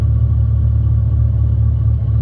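A Ford Mustang GT350's high-revving engine hums in a loud, even, low drone close by, holding a constant pitch without any rev change.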